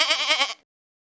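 A single short goat bleat, loud and close, a wavering nasal cry lasting about half a second before cutting off into silence.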